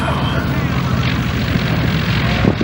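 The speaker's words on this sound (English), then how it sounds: "Beautiful, gentle touchdown with that airplane." Propeller airplane landing on a runway at the Props and Pistons Festival airshow, a steady broadband engine drone held close and loud throughout with no distinct touchdown impact, a voice talking over it.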